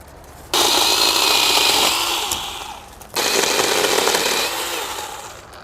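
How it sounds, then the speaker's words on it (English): A NaTiddy mini electric chainsaw trims plants, buzzing loudly in two sustained cutting bursts with a brief pause between, its pitch sagging slightly as the chain bites. "Well, this saw is working great, but the chain's getting a little bit loose for my taste."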